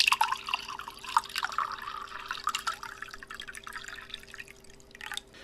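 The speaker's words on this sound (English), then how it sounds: "She then proceeds to pour the wine in her glass." Wine pours from a bottle into a glass, a close, bubbling trickle with gurgling drips that gradually eases off, with no talking.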